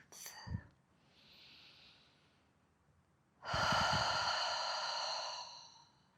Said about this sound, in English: taking a few deep breaths out of your mouth